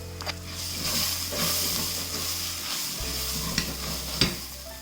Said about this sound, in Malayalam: കാശ്മീരി ചില്ലി പൗഡറും 1/2 ടേബിൾ സ്പൂൺ മല്ലിപ്പൊടിയും 1/2 ടീസ്പൂൺ ഗരം മസാലയും കൂടി ഇട്ട് ഇതൊന്ന് വഴറ്റി കൊടുക്കാം